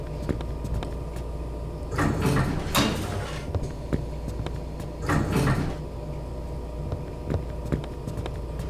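A door opens as an audio drama sound effect, heard as two short creaking, scraping bursts a few seconds apart over a steady low room hum, with no voices.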